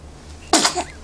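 A single sharp sneeze from a baby bursts out abruptly after a quiet moment, close and loud, with a short breathy tail.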